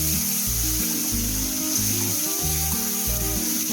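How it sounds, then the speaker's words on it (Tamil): Tomatoes and onions sauté for bisibelebath in a hot pan, giving a steady, loud sizzle and hiss throughout, with background music playing over it. "தக்காளி நல்லா வதங்கணும்."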